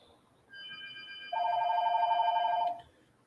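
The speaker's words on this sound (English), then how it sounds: "My phone ringing." Telephone ringing during a Kentucky vs North Carolina women's basketball SEC-ACC Challenge watch-along, a bright electronic ring tone with sustained tones rising in strength mid-way, then stopping abruptly, no talk over it.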